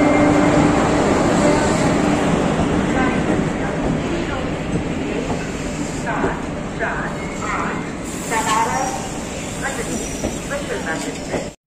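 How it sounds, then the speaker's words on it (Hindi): A Varanasi–Bhatni passenger train hauled by a locomotive rumbles along steadily, with loud continuous wheel and carriage noise heard from inside the coach and voices talking over it. "लोकोमोटिव के साथ बनारस भटनी पैसेंजर ट्रेन चल रही है।"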